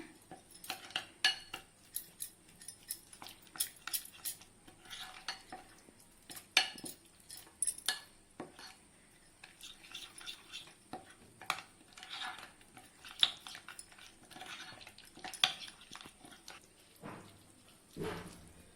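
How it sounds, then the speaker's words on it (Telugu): Chicken tikka spice paste with coriander powder and garam masala being mixed in a bowl, a spoon clinking and scraping in short irregular bursts, fairly faint, with no talk. "ఈ పేస్ట్ మొత్తం బాగా మిక్స్ అయ్యేదాకా కలుపుకుందాము."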